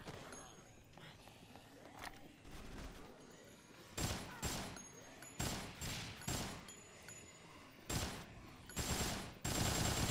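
Loud bursts of automatic gunfire in the Dead Rising game, repeated in clusters after a quieter stretch, close and harsh, with voices talking faintly between volleys.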